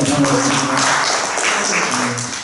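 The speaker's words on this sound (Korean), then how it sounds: "여러분 박수 한번 주시죠." Brief audience applause at an academic conference, a burst of clapping with voices murmuring and talking through it, close and fairly loud.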